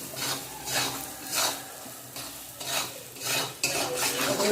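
Grated coconut stirred in a pan while cooking taro greens, heard as rhythmic scraping strokes repeating about every half second over a light sizzle, close and fairly loud.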